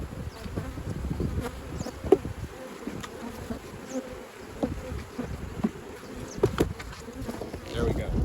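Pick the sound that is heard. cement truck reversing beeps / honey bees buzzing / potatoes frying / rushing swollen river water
honey bees buzzing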